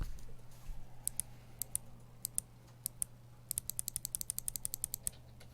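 Typing on Kailh Box White mechanical keyboard switches, a run of crisp clicky keystrokes that starts sparse and slow, then turns quicker and denser, close and fairly quiet over a low steady hum.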